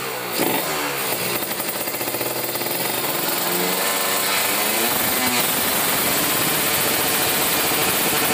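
A motorcycle engine held at high revs, around 12,000 RPM, roars loud and constant at close range with a harsh mechanical buzz, briefly dipping near the start and then staying steady.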